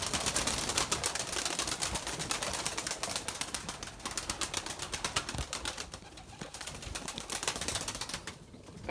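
Erzurum white tumbler pigeons in a breeding loft make a dense, close stir of soft cooing and repeated flapping wingbeats, with no voices.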